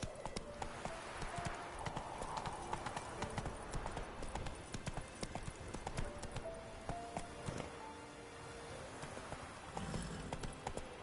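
The horse Roach's hooves clip-clop in a steady trotting rhythm in a PS4 video game, with continuous even hoofbeats and a faint game soundscape behind them.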